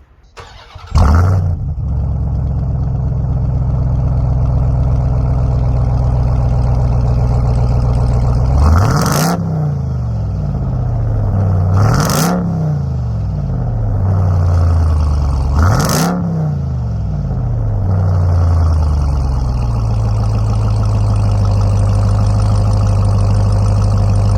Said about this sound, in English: This does really have a nice exhaust note from the factory.